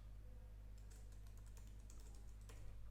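Keys tapped on a computer keyboard while a file name is entered, a quiet scattered run of soft clicks over steady low electrical hum.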